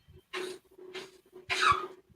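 An old dog coughs in three rough, wheezy bursts, faint and fairly close, with a low steady hum running underneath.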